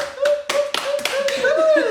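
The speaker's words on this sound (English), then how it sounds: "Please give him a round of applause" A handful of distinct hand claps, about six in a loose rhythm, greet a guest on a couples talk show, mixed with a sustained voice and light laughter.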